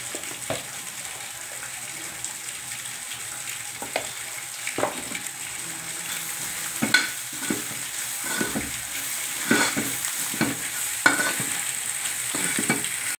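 Potatoes frying in a pan with salt and turmeric stirred in, a steady soft sizzle with scattered scraping stirs and taps, close and moderately quiet.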